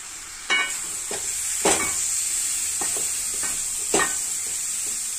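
Chopped tomatoes hit sizzling onion masala in a pan for chicken biryani, a constant hissing fry punctuated by three or four sharp scraping stirs of a spoon.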